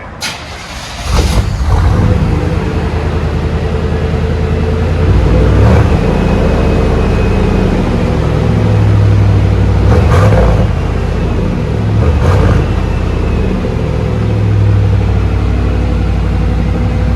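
A 1988 Chevy 1500 pickup with a 5.7L V8 and straight-pipe dual exhaust idles with a loud, deep rumble, rising in several brief revs over a steady low throb.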